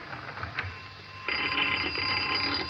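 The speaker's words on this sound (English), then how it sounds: "go and answer the phone while I see how the pie's doing" Telephone ringing as a sound effect on an old-time radio comedy show, a steady bell-like ring that starts partway through and carries on to the end, loud and alone with no talk over it.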